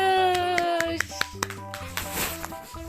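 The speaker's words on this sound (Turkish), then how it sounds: "Kocaman alkış." Children clap after passing a level of the game Red Ball 4. A handful of sharp claps and a short burst of clapping follow a voice, with game music underneath.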